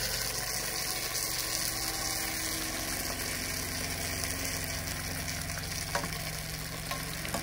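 Stuffed dolma fry in a pan with meat inside, giving a dense, steady sizzle that carries on for several seconds close up, with a few faint clicks and no one speaking.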